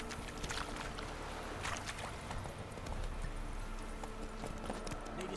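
Roach, a horse in The Witcher 3 video game, galloping in a steady, rapid, close clip-clop of hooves that stays continuous throughout, with no talk.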